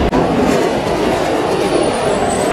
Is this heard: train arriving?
yes